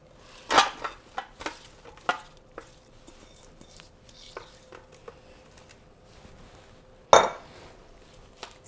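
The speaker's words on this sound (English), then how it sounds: "We're going to add our apple slices." Apple slices go into a pan with a few sharp clattering knocks and scrapes of utensil on metal, a faint sizzle underneath, and a final loud clank near the end.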